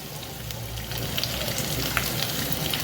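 Garlic added to hot oil with frying chillies for a restaurant-style soybean chilli sizzles steadily and close, a constant crackling hiss with small pops and no talk.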